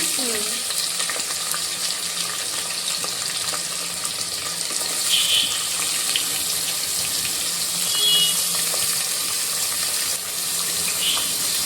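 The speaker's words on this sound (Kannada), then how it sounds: "ಪ್ರೇಮ ಆನಿಯನ್ ಆ್ಯಡ್ ಮಾಡ್ತಾ ಇದ್ದೀನಿ" Chopped onions go into a hot pan of spices for egg biryani, giving a steady bed of sizzling and frying with some stirring scrapes and faint watery hiss throughout, with no talking.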